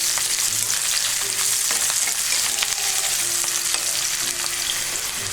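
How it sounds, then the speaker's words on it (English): Garlic and onion sauté in a pan for ginisang ampalaya, giving a steady, close sizzle with occasional stirring clicks throughout and no talking. "just cook the onion and the garlic a little bit"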